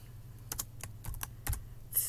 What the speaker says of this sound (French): je clique sur Nouveau dossier. Et j'écris, tiens, bonjour, Madame Catherine.